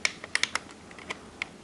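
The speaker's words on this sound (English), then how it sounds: "your trims are clicking correctly" Small plastic clicks from the trim buttons of a Syma X5C quadcopter's RC transmitter, a handful of quick, light taps in an uneven sequence, close and quiet.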